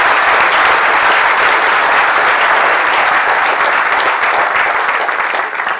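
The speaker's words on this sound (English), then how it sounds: "we're certainly going to give him a round of applause for his effort" Sustained, dense applause from an audience at a bird photography awards ceremony, many hands clapping loudly and evenly for several seconds before tapering slightly.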